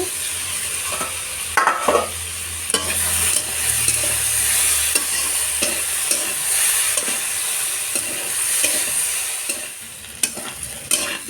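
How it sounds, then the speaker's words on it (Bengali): Vegetables with potatoes frying in a pan with a steady loud sizzle, punctuated by scraping stirs of a spatula throughout, without any talk. "দেখো সবজিগুলো সুন্দর একটু ভাজা হয়ে গেছে"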